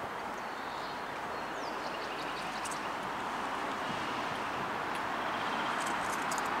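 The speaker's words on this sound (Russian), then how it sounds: "Звук дороги." Steady broadband road traffic noise from a nearby road, heard on an outdoor walk past a former garage site, a constant distant roar with faint bird chirps on top.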